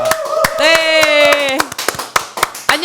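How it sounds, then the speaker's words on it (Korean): Scattered claps from a small studio audience welcoming a news announcer on a talk show, sharp separate hand claps ringing out over a held tone and brief speech. "뜨거운 박수로 환영하겠습니다"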